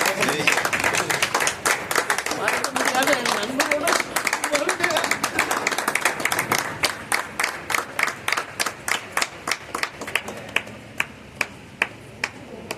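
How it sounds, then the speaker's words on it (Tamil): Guests at a family function break into hearty applause that starts as a thick wave of clapping, then thins to a handful of separate, sharp claps fading out near the end, with voices talking alongside. "நல்ல கரகோஷம், இன்னும் கொஞ்சம் நல்ல கரகோஷம்."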